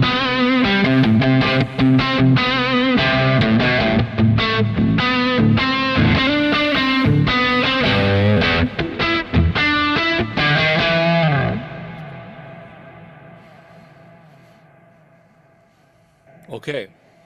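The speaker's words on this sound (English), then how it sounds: "is the ring modulator." An electric guitar played through a Kemper Profiler's ring modulator gives a metallic, bell-like, dissonant tone over a run of chords, then fades into a lingering decay with a final pluck.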